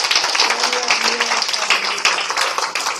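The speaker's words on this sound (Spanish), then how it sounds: "Denle ese aplauso al Señor." A church congregation applauding, dense steady clapping from many hands filling the room for about three seconds, loud and close, with some voices mixed in.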